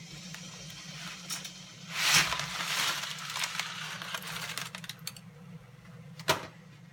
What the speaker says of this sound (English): let's start by adding our spaghetti to the boiling water.